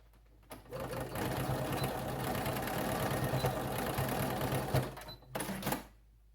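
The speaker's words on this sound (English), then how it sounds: "I'm just going to go to my machine and I'm just going to stitch back and forth over that just a couple times just to tack it down" A sewing machine stitches back and forth to tack down elastic on a fabric eye mask, whirring steadily for about four seconds, then giving a couple of short final bursts, close and fairly quiet.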